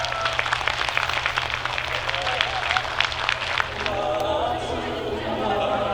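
Audience at a choir concert applauds warmly, steady close clapping with some chatter, easing into softer crowd noise toward the end.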